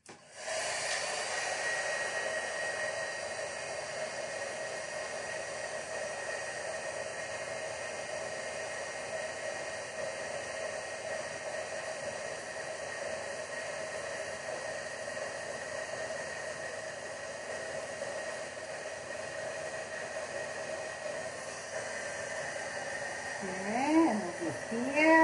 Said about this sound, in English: And we're going to bring the heat tool.